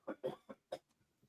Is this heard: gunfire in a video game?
no